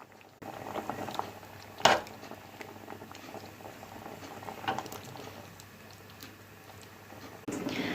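Cream soup with melted processed cheese being stirred in a pot gives a soft, continuous wet bubbling and patter, with a couple of sharper utensil clicks near the start and middle. No voices are heard.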